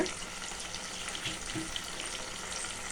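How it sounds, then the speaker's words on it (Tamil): Ground tomatoes fry in a wok with salt for a mushroom kurma, giving a dense, even sizzle and bubbling hiss with light stirring scrapes, near and steady with no talking. "3 தக்காளி அரைச்சி எடுத்த பிறகு நம்ம இந்த வாணலியில் சேர்த்த பிறகு கொஞ்ச நேரம் வதங்கணும்"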